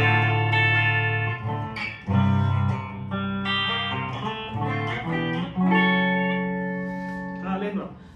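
Clean electric guitar, a Mattrixx Telecaster on its bridge humbucker, rings out with chords and picked notes, notes sustaining into a light reverb tail, played alone at moderate volume.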